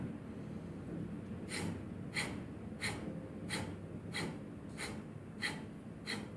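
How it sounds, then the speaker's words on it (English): Kapalabhati yoga breathing produces a steady series of about eight sharp, forceful nasal exhales, evenly spaced and close to the listener, over a quiet background. "So we're on our first round here of Kapalabhati."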